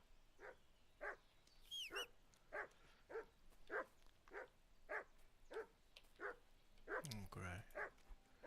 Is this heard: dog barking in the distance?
yes